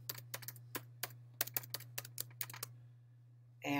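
A password typed on a computer keyboard: a quick, uneven run of crisp, close key clicks that stops, followed by a brief louder sound at the end.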